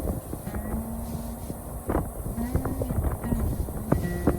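Wind buffets the microphone in low, uneven rumbling gusts, with faint clopping and knocking sounds mixed underneath, outdoors at Tukituki, Hawke's Bay.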